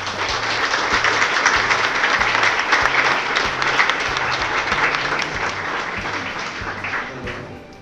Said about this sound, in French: Je vous demande de les applaudir parce qu'ils sont très nombreux.